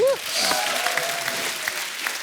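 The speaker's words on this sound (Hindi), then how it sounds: "जोरदार ताली हो जाए" Studio audience on a comedy talk show breaks into brisk, sustained applause, a close wash of clapping that begins just after a brief vocal sound at the very start.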